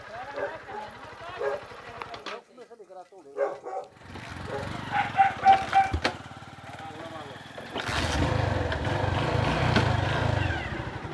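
A motorcycle engine idles and revs in bursts close by in Ceará, Brazil, with people talking over it and a dog barking partway through.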